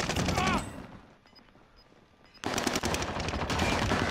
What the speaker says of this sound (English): There's one more shooting me in the back.